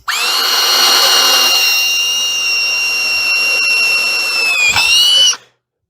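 A drill bit cutting a pilot hole in metal while a bench vise is being rebuilt, with coolant on the bit: one steady, loud, high-pitched whine close by for about five seconds, then it abruptly stops.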